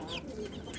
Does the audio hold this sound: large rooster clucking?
yes